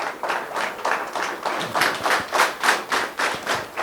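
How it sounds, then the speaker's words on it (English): Applause for the panelists at a diaspora-academia session in India, a small group clapping in a steady, almost synchronized rhythm of distinct beats that rise and fall in waves. "And great applause to the panelists."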